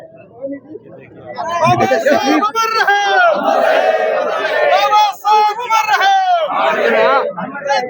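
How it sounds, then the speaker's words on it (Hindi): Crowd at a statue unveiling for Dr. B. R. Ambedkar in Uchana Kalan chanting slogans in loud rhythmic shouts, voices rising together in repeated surges over a noisy, close outdoor gathering. "नारे भी लगा रहे हैं, तालियों से स्वागत भी करना है।"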